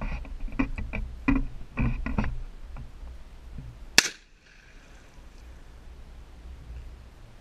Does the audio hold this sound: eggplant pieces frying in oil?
no